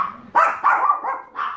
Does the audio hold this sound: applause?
no